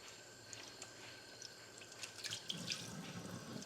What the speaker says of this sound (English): Just gonna rinse my ground beef off.